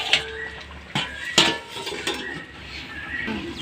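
Metal clatter of a lid set onto a cooking pot while vegetable shukto simmers, a few sharp clanks and clinks spaced apart over a low kitchen background.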